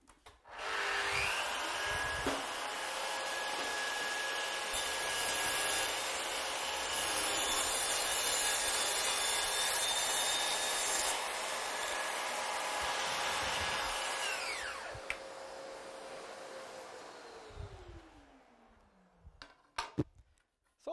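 A Festool CS 50 table saw cuts a wooden workpiece: a loud, steady whining blade run with broadband cutting noise for about fourteen seconds, then the motor spins down and fades, followed by a few faint knocks.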